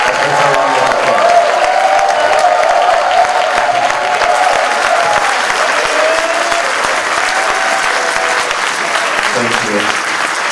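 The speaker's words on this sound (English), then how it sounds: "can we give our special guest, His Excellency Mr. Utomi, a better round of applause" A large audience at an inaugural lecture gives a special guest a sustained, loud round of applause with some cheering and crowd murmur mixed in, holding steady throughout.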